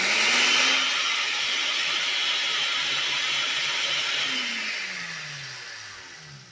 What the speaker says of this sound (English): Let's blend air.